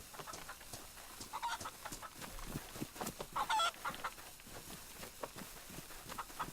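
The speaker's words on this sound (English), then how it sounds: "If you hear a chicken, it's because there's a chicken." Chicken clucking in the survival video game DayZ, a few short repeated clucks at moderate distance over a soft ambient outdoor background, with no talking.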